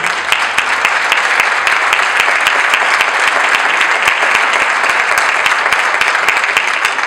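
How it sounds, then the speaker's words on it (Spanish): Loud, dense applause from an audience at a talk, many hands clapping steadily without pause for several seconds, close and continuous with no voices over it. "Así que un aplauso para Gerardo."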